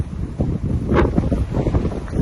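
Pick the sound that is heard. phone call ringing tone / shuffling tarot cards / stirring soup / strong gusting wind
strong gusting wind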